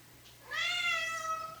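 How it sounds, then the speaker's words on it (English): A pet cat gives a single drawn-out meow, clear and close, rising then holding steady for about a second over quiet room tone. "Oh, now my cat wants to narrate."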